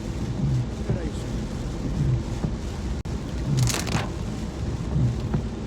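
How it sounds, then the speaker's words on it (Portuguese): Heavy rain pours down in a storm with thunder, a dense steady roar broken by low rumbles and a bright hissing burst midway, while someone speaks over it in Portuguese. "É que tá chovendo pra caramba."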